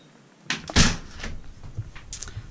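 A closet door in an apartment bedroom is opened, giving one solid thunk and rattle followed by softer handling knocks and faint movement.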